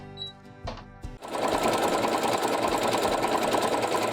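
A sewing machine runs steadily and loudly for several seconds, working a cretan stitch on a Victorian-style scrappy quilt, after a few brief handling clicks.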